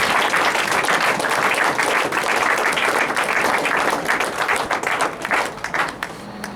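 A church congregation breaks into loud, sustained applause that fills the room, then slowly thins out toward the end.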